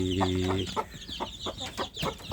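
A free-range village mother hen with newly hatched chicks, clucking close by, a drawn-out call followed by a string of short, rhythmic clucks.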